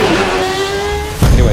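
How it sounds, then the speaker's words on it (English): Simulated 2013 Red Bull Formula 1 car V8 with a 2011 blown-diffuser sound mod in a racing video game, a loud high-pitched engine whine holding steady before a sudden louder burst near the end. "I have installed the 2011 blown diffuser sound mod."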